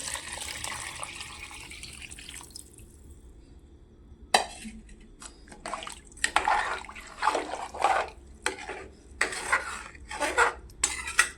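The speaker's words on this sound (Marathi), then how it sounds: "त्याच्यामुळे मी 4 वाट्या पाणी घालते आहे याच्यामध्ये" Water runs and splashes into a pot of rice, followed by clinking of metal utensils and dishes nearby.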